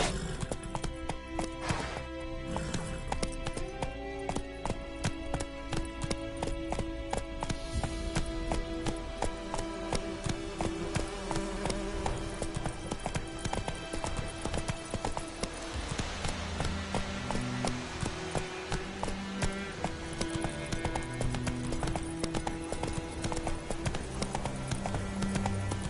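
Geralt's horse Roach gallops in The Witcher 3 with continuous rhythmic hoofbeats, close and steady, under game music and ambience.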